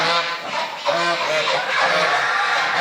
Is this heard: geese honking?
yes